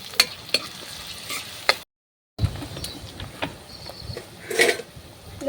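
Chopped onions with cumin seeds and curry leaves fry in hot oil, crackling and sizzling close by while a spoon scrapes and stirs through the pan in irregular strokes, broken by a brief silent gap.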